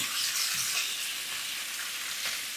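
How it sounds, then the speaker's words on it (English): Rabbit pieces browning in a hot pan give off a steady, fairly soft sizzle, a constant bright hiss with a few small crackles, heard alone without talk. "While our rabbit's browning off in the pan"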